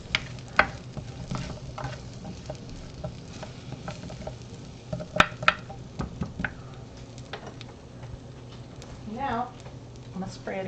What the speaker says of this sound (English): Stir with a wooden spoon.